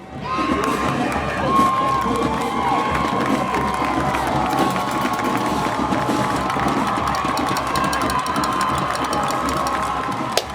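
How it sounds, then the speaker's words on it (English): A rowdy crowd cheers at a high school football game between the John Curtis Christian Patriots and the St. Augustine Purple Knights, keeping up a loud, dense roar of shouts and yells throughout. "Crowd's getting rowdy."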